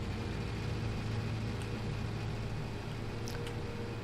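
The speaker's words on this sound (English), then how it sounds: "I like my little bubble tractor." Small tractor engine in Farming Simulator 19, a steady low rumbling drone that runs continuously at an even level, with a few faint high clicks partway through and no talking.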